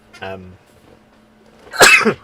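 A single harmonic, voiced cough-like burst, then a short pause before a loud, noisy sneeze close by.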